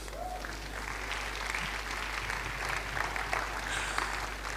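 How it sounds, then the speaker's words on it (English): An audience at a church leadership summit applauds, with dense, steady clapping filling the whole stretch at a moderate distance. "Give the Lord a clap."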